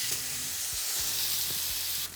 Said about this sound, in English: you press to maximize the surface area that's in contact with the hot pan